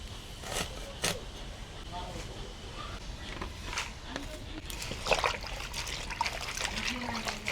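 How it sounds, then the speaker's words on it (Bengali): Whole fenugreek greens are rinsed in water, with trickling, dribbling and small splashes as the leaves are swished and lifted, plus occasional rustles and scrapes, close by and moderately quiet, with a faint voice in the background. "গোটা শাকটাকে আগে ধুয়ে নেব"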